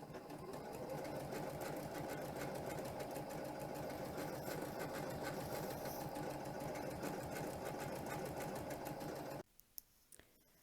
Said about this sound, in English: So I'm going to put the needle in, my foot down, and I'm going to start sewing.